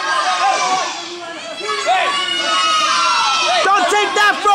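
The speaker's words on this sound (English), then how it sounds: "Listen to this crowd, man." A crowd at a live wrestling show roars and chatters around the ring, a loud dense hubbub with shouts rising and falling, while a commentator talks over it near the mic.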